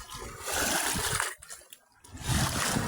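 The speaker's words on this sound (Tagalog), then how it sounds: "lakas ng alon" Strong sea waves wash and splash near the shore at a swimming spot, a broad continuous surf roar that dips briefly and then surges back loud and close.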